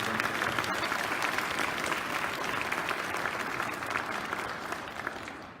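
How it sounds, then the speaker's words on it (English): An audience at a Canadian citizenship ceremony gives sustained, dense applause that fills the room and fades slightly at the end. "How about a nice round of applause for all of you who made this happen?"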